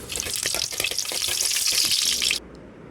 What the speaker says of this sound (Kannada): ಒಗ್ಗರಣೆ ತಯಾರಾಗ್ತಾ ಇದೆ ನೋಡಿ ಸಾಸಿವೆ ಮೆಣಸು ಉದ್ದಿನಬೇಳೆ ನೆಲಕಡಲೆ